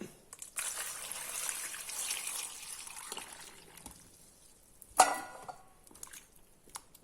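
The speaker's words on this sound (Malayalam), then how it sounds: "നമ്മളിനി ഇതിനകത്ത് ഇത്രയും ചുണ്ണാമ്പ് ഇട്ട് കലക്കി വെള്ളം ഒഴിക്കണം." Water poured into a vessel of slaked lime while preparing Agra peda, a soft, faint trickle and splash lasting several seconds, ending with a small clink of the container.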